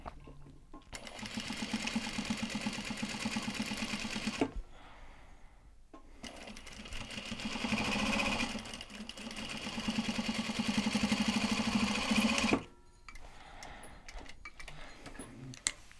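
A sewing machine stitching in steady runs at a Christmas market sewing session, loud and close, with brief pauses between bursts and no talk over it.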